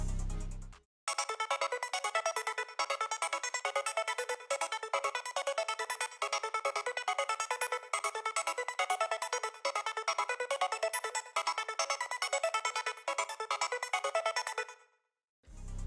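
A bright, rapid synth arpeggio from the Hive preset Canned Repeater plays as a fast, evenly pulsing run of high repeating notes for about fourteen seconds, then stops, with no voices.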